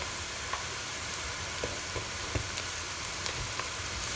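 Onions sizzle and fry in hot, foaming mustard oil, a steady broadband hiss with small crackles and pops scattered throughout, close and unbroken by talk.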